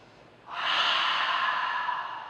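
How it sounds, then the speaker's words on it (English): An Ujjayi breath drawn in through the nose with a narrowed throat makes one long, hissing, breathy rush that starts half a second in and holds steady to the end, close-miked with no speech. "Now I want to explain a breath technique we call Ujjayi breath."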